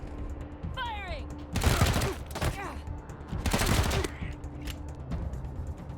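Gunfire in the video game Wasteland 3: two loud bursts of rapid shots in close succession, with game sound effects around them and no speech.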